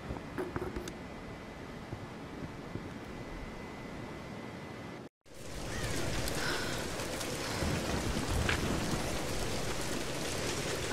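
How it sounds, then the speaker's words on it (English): Rainstorm with thunder in Tomb Raider, heard first as a quieter steady patter, then after a brief cut as heavy, loud rain with low rumbling and scattered splashes, continuous and close. "We're getting closer to the storm."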